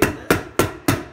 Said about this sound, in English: So we're going to staple this.